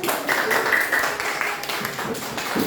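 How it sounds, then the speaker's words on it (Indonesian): A class of young schoolchildren claps together in a classroom, a dense, steady patter of many small hands that stays even and fairly close throughout, with little talk over it. "Tepuk tangan untuk Mayriska."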